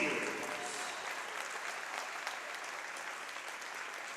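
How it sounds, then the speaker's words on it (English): A gym crowd applauds the class of 2026 Louisburg volleyball seniors at a home match, steady dense clapping that fills the whole stretch at an even level. "Please give a round of applause to the class of 2026 Louisburg Volleyball Seniors."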